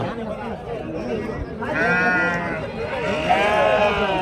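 Sheep and rams bleat at a busy Saturday livestock market in Angallu, with several wavering calls overlapping near and mid-distance over constant crowd chatter and people talking close by.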